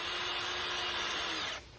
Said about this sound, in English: get some screws into these now